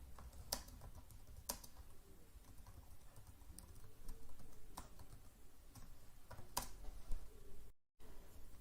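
Light typing on a computer keyboard while editing text, a scattering of quiet, irregular key clicks with a few sharper taps, heard close and alone at low volume.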